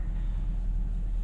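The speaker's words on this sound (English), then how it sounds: "Is that a Detroit diesel or something, Grandpa? There has dual exhaust." A Detroit diesel engine with dual exhaust idles nearby, a deep, steady low rumble with a constant throb and faint background hiss.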